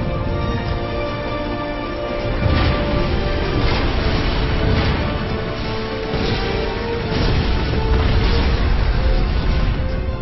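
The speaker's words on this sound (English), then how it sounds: "You see we're getting hit with some long-range artillery, so we're going to zoom in here. You can see it blasting away." Long-range artillery shelling in Supreme Commander 2, a steady roar of battle noise with heavy booming impacts swelling every few seconds.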